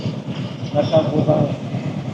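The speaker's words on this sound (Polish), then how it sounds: "stoimy, bo jedzie pociąg przed nami. Pociąg towarowy, prawda?" Freight train rolling past a waiting motorbike at a crossing in Cambodia, a rumbling wash of wagons with faint rhythmic clatter and some squeal, steady and fairly close, with people talking over it.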